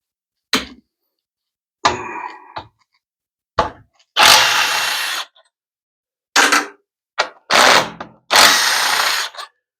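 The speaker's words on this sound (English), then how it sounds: "And we'll take the bolts off the valve body." Power tool spinning bolts off the valve body of a 6L80E automatic transmission, several short loud whirring bursts separated by silent gaps, close and harsh, with a few sharp clicks between.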